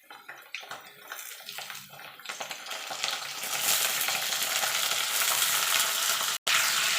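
A few soft clinks give way to a sudden, loud, continuous sizzle as moringa drumsticks go into a pan of reddish-fried potatoes, the hiss holding strong and close to the end.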